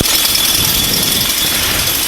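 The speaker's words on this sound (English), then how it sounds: "And then we'll start the engine." A flexwing microlight aircraft's engine runs at a steady idle after starting, close and loud with a constant vibrating drone.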